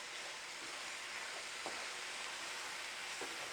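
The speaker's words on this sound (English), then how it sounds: "This is sizzling, and that's what we want." Zucchini fries in a pan over golden onions, giving a steady, soft, continuous sizzle with a few faint pops throughout, fairly quiet and free of speech.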